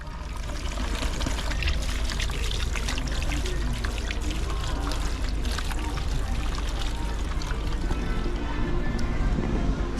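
Water is poured steadily over pumpkin pieces in a cooking pot at a Jamaican street soup stall, making a continuous rushing splash that holds up through the whole stretch, with faint voices underneath.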